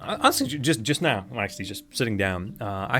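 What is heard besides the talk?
None of the usual background noises is heard.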